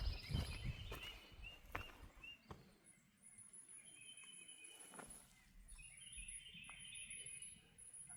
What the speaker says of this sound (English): I'm guessing it's a bird.